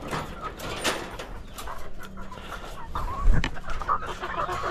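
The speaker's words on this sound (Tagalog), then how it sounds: "Para sa manok natin na nandito." Farm chickens cluck in bursts close by, with rustling and scattered knocks around them and a louder thump partway through.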